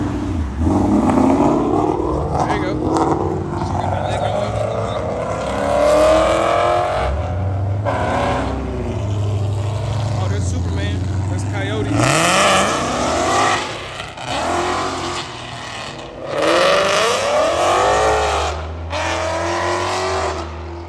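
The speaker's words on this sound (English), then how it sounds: "So I got the Mustang without the hood, pulling out." A Mustang 5.0 with its hood removed pulls out at a car meetup and races a Hellcat, loud engines roaring and revving hard as they accelerate past, with rising and falling pitch and surges of power.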